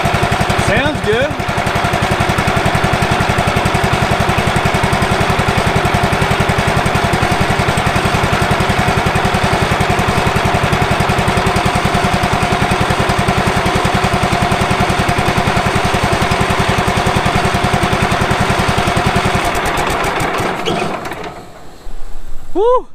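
A 1990s Wood-Mizer LT15 band sawmill engine runs steadily at a loud, constant drone for about twenty seconds before cutting off abruptly near the end.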